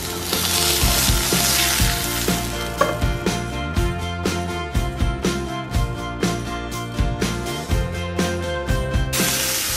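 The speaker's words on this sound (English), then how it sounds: "I'm going to melt some butter and garlic in a pan. Now I'm going to turn my salmon over." Butter, garlic and salmon fry in a pan with a steady, close sizzle and rhythmic crackling pops, under continuous background music.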